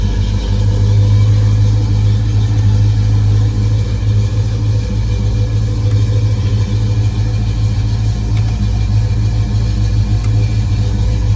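A tuned 1968 Pontiac GTO engine idles steadily without throttle, a loud, even, low rumble that holds constant throughout with no revving.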